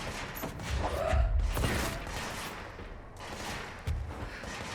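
Enemies shooting at the player in the video game Control, a dense continuous spray of gunfire that swells and fades over several seconds, loud and cluttered, with a sharper burst near the end.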